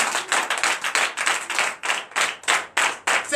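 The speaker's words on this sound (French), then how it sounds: "Donnez l'acclamation." A church congregation at a Sunday worship service claps in loud, rhythmic bursts, a near, energetic run of rapid hand claps pulsing in regular waves.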